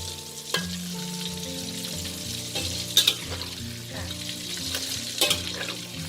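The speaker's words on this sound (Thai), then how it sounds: "เราต้องใช้ไฟอ่อนค่ะค่อยๆทอดนะ" Fish pieces fry slowly in a pan over low heat, with a continuous soft sizzle broken by sharper scrapes and clinks as the fish is turned; a low hum runs underneath.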